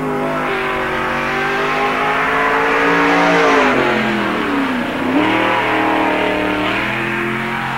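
The 91 stock race car of the NASCAR Busch All Star Tour runs at Park Jefferson Speedway in 1997, engine loud and close, holding high revs, then dipping around a corner before accelerating hard again.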